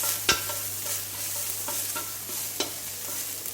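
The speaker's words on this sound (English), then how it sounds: "1 tablespoon of coconut oil, and we're gonna stir fry garlic" Chopped garlic stir-frying in a tablespoon of coconut oil for a Thai ginger pork liver dish, a steady close sizzle broken by a few sharp scrapes and stirring knocks, with no talking.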